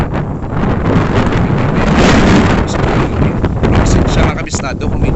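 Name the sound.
strong wind at the coast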